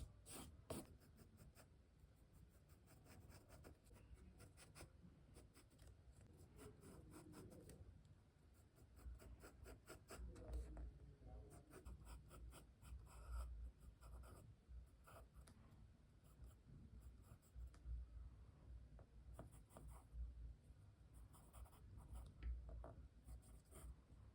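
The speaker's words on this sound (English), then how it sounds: "Now I will just erase a little bit on the surface." An eraser working over part of a pencil drawing on paper, giving a long run of quick, rapid rubbing strokes in steady bursts, soft and very close, with no talking.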